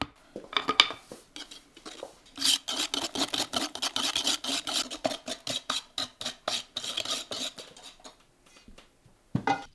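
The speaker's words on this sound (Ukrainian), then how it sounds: "Тепер сметану з амонієм з'єднуємо зі збитим яйцем і добре перемішуємо." A utensil scrapes and clacks rapidly against a bowl, mixing sour cream with beaten egg in a steady rhythmic whisking and stirring that runs on for several seconds before stopping.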